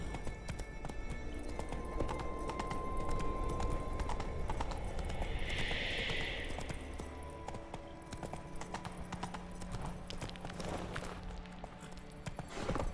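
Hooves of the horse Roach clip-clop steadily at a galloping pace through The Witcher 3 game world, with a brief whinny midway, loud and continuous over a soft game background.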